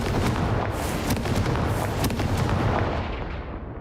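A Confringo fire spell blasts in the Hogwarts Legacy video game. It makes a dense, roaring burst like artillery fire with crackling booms that fill the whole clip, loud and close, then tails off as the high end fades at the end.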